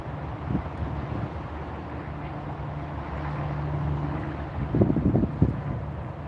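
Wind gusting at a lakeside fishing spot, a low rumbling buffet against the microphone that swells into heavier blasts near the end, with no one speaking.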